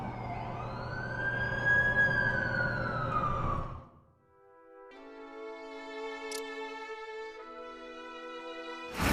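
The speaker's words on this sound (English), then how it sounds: "That's the ambulance I called." A wailing ambulance siren from The Amazing Spider-Man 2 video game on Xbox 360 sweeps up and down loudly for about four seconds and then cuts off, leaving only quiet game ambience.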